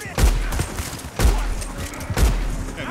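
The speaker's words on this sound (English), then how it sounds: "Oh, they still shooting, huh?" Three bursts of gunfire from a Red Dead Redemption 2 shootout, roughly a second apart, each a heavy boom followed by a decaying rumble, loud and close, with game background noise between the shots.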